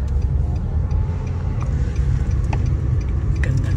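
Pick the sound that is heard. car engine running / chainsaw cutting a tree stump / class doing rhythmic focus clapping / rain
car engine running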